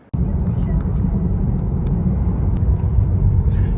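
Steady low rumble of a car driving, heard from inside the cabin, with continuous road and engine noise holding at a constant moderate level throughout and a few faint higher ticks above it.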